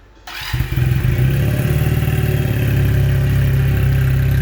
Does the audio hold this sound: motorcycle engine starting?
yes